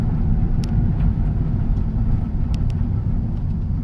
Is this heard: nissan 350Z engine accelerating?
yes